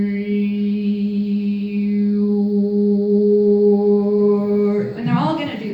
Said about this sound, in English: they're going to do some overtone singing, which kind of sounds like this